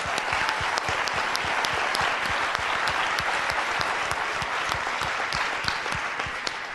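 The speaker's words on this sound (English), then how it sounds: "I want everybody to give her a round of applause." A seminar audience breaks into loud, sustained applause for a participant, dense rapid clapping from many people filling the room evenly from start to finish, with no voices over it.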